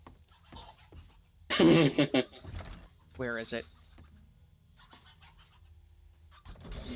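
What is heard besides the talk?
chicken clucking in 7 Days To Die video game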